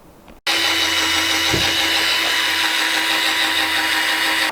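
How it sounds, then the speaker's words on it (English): A power drill with a polishing ball whirs steadily at high speed on a Mk4 Bora headlight, starting abruptly after a brief quiet moment and running loud and continuous to the end. "just finished our first light little polishing round"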